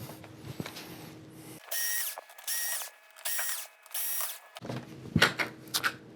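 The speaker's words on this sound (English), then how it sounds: "we've just got a handful of screws down through here" Power screwdriver whirring in four short bursts as screws are backed out of a Samsung PN50C550G1F plasma TV, with faint clicks and handling noise around them, close and fairly quiet.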